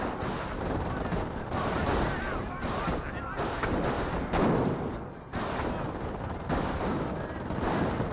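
MG42 machine gun fire in Company of Heroes during a street battle at an intersection, with continuous rattling bursts and thudding artillery layered into a dense, loud wash of combat noise from start to finish.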